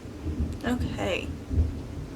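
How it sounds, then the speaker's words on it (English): Loud thunder during a rainstorm, a close, heavy rumble with a brief burst over a bed of rain, lasting a couple of seconds with no voices. "Loud thunder."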